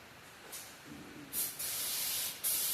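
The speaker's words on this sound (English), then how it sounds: "I like to use brake cleaner" Brake cleaner sprayed from an aerosol can to flush out crankshaft oil holes, heard as several separate hissing bursts that grow longer and louder toward the end, with no talking.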